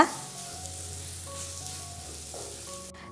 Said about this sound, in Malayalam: ഫ്ലെയിം ഒന്ന് മീഡിയത്തിൽ വെച്ച് കൊടുത്തിട്ട് തന്നെ നന്നായിട്ട് ഇതെല്ലാം ഒന്ന് വഴറ്റിയെടുക്കാം